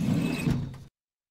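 Desk drawer sliding open in the point-and-click detective game Under a Killing Moon, a single short wooden scrape and rumble with a light mechanical rattle, close and alone, cutting off abruptly into silence.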